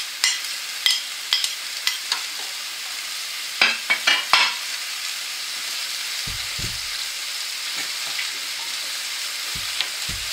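Peppers and carrots sizzle in a hot pan while being stirred, steady frying hiss with a few sharp scraping clatters of the utensil early on, heard close with no speech.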